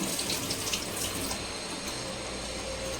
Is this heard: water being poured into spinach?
yes